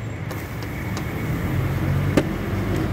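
A 2018 Honda Click 150i V1 scooter engine idling after a throttle and fuel-injection cleaning, a steady low hum held evenly throughout, close and fairly loud, with a faint tap partway through.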